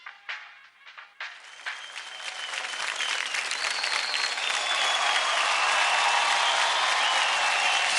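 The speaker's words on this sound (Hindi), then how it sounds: "सुपर परफॉर्मेंस, जोरदार तालियां हो जाए प्रिंस की पलटन के लिए।" Loud, dense applause from a studio audience after a children's dance performance on a TV dance show, starting with a few scattered claps and swelling into sustained clapping and cheering.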